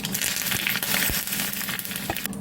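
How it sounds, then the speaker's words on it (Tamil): Mustard seeds and onion spluttering in hot oil for a pumpkin sambar tempering, a dense, close, continuous crackling sizzle with scattered sharp pops and no talk. "வெங்காயம் கடுகு நல்லா பொரியட்டும்"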